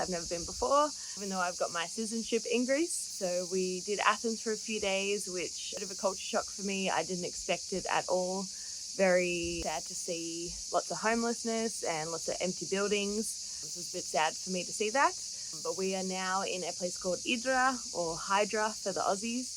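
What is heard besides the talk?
cicadas on Hydra, Greece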